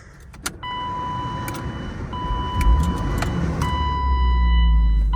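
A drift car's engine cranks and starts, settling into a steady rumbling idle nearby, with an electronic chime tone sounding repeatedly and a few clicks and key jingles over it.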